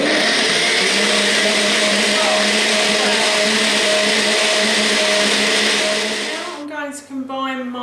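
A blender whirs loudly and steadily while grinding brownie ingredients with beetroot and orange, then switches off near the end, its motor winding down with a few clattering noises.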